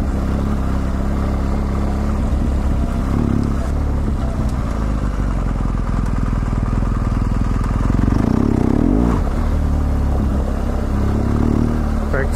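A BMW GSA motorcycle rumbles and revs steadily while riding off-road on red rock trails, its engine close and continuous with a few surges as the rear end kicks around, while a rider talks over it.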